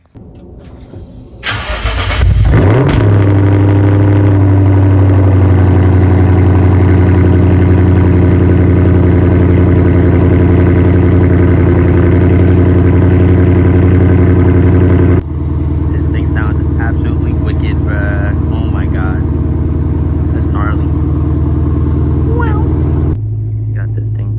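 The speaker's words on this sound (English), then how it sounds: "So I'll give you all a little cold start." A rebuilt car engine cold-starts with a sharp crank and catch, then settles into a loud, steady close-up idle that drops slightly in pitch partway through and keeps rumbling evenly.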